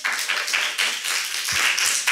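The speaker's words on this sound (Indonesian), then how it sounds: "Tepuk tangan dulu." Clapping from a small audience at a brand-building talk event in Indonesia as guest speakers are called up, uneven and fairly close with distinct individual claps in a loose rhythm.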